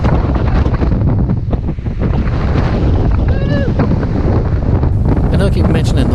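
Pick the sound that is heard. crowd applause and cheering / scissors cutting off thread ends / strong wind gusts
strong wind gusts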